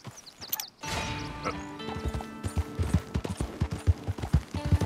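Horses in the Red Dead Redemption 2 video game give a whinny, then a steady clip-clop of hooves moves over the ground at a walking pace, with layered game ambience behind it.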